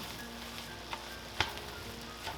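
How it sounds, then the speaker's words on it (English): Rice with ketchup and soy sauce fries in a pan for omurice, giving a faint steady sizzle with a few soft spatula scrapes and taps while it is stirred. "I'm going to go ahead and mix it around again."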